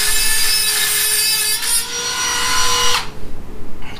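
A power tool cuts into a Warn Elite steel front bumper on a Jeep JL, a loud harsh grinding whine for about three seconds that stops abruptly, then quieter clatter.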